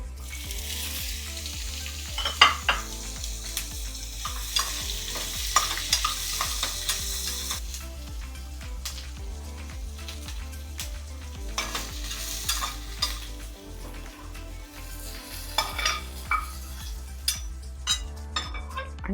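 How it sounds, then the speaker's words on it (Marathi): Capsicum and carrot are stir-fried in a pan for a mushroom mixed-vegetable dish. A continuous close sizzle runs under frequent spatula scrapes and metallic clinks, with a low tonal hum in the background and no speech. "आता थोडं शिमला मिरची आणि थोडं गाजर दोन्ही थोडं थोडं परतून घेऊयात परत"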